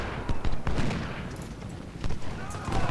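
Musket volleys crackle in a Civil War battle from Ultimate General: Civil War, with scattered bursts of gunfire over a dense, rumbling din, and a voice speaking amid the fighting.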